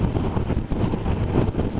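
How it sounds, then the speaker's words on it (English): Wind buffets a motorcycle rider's helmet at about 60 mph with the engine near 4,000 rpm, a loud, rough, continuous low roar close to the microphone with no talk. "There's a bit of wind hitting my helmet, and it's a little bit noisy"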